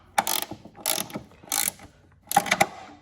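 Ratchet clicking in four short bursts as bolts are snugged down on a Toro Recycler lawn mower tipped on its side during a blade clutch replacement, close and crisp with brief pauses between strokes.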